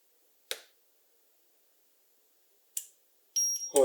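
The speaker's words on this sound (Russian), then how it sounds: "И прозвучал звуковой сигнал." A VHM-018 daily timer relay sounds its signal: a short chirp near the start, another a couple of seconds later, then a quick run of clipped electronic beeps at the end, close and clear over silence.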